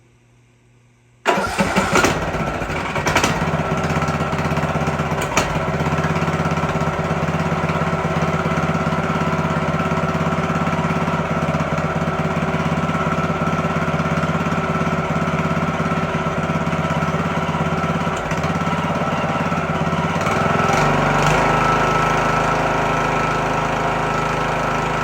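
A Briggs & Stratton small engine with a rebuilt or replaced Nikki carburetor starts abruptly without choke and settles into a loud, steady close running drone for over twenty seconds, a slight rise in rumble near the end.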